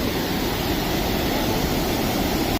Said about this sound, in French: la rivière et la cascade